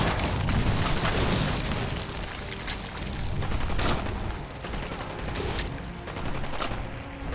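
Grenade explosions and gunfire in the video game Fallout 4, a loud, dense barrage of shots and blasts with sharp cracks standing out over a constant rumble.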